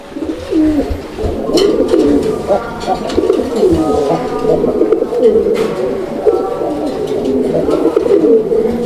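A Lahori Bombay pigeon coos close up in repeated rolling, throaty phrases that carry on steadily, with faint background noise around it.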